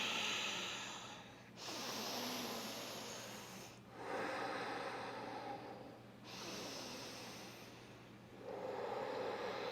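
Slow, deliberate breaths during a vinyasa yoga twist, each long airy exhale and inhale close and soft, four in a row separated by brief pauses.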